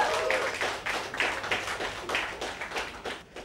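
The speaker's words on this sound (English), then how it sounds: "please welcome with a round of applause" A comedy club crowd claps to welcome a stand-up comedian to the stage, a soft, somewhat distant patter of applause pulsing in quick uneven bursts before thinning out.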